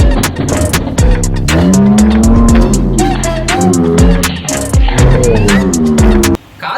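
Beyblade spinning tops clash in a home battle, a loud dense rush of metallic scrapes and sharp clicks over a whirring, sliding hum, with frequent hard impacts before an abrupt drop near the end.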